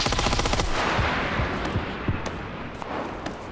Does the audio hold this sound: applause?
no